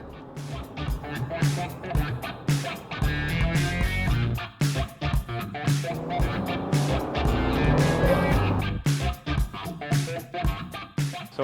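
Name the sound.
1994 Honda NSX-R driving at high speed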